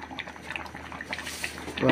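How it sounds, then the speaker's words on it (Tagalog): Broth with shrimp, vegetables and sutanghon boiling in a pot: soft, steady bubbling and gurgling close by, faint under a nearby voice, with a brief louder liquid splash at the end. "Makulo-kulo na siya."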